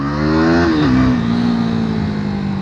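A KTM Duke 390 motorcycle accelerates hard nearby in low gear, its engine note rising, then dropping at a shift and settling into a steady loud drone.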